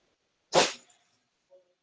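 A dog gives a single sharp sneeze, a short breathy burst close by in a quiet room, followed by a faint small sound.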